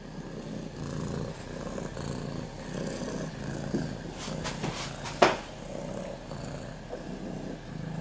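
Close, steady purring from a contented house cat, a continuous low rumble broken by a brief knock near the end.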